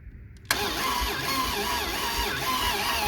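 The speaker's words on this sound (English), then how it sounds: "You can hear that mini starter cranking it." A 1970 Dodge Monaco V8 cranking on a mini starter with a weakening battery, a steady fast whirring churn that starts abruptly and continues without catching, close by and fairly loud.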